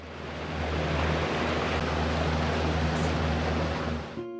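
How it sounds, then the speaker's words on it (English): A mighty waterfall pours in a steady, broad roar of rushing water, loud and unbroken before cutting off abruptly near the end. "The mighty waterfall."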